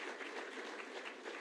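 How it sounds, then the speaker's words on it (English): Faint, distant applause at an education results announcement ceremony, a light continuous patter of many hands with no voices over it. "So I think she deserves more applause"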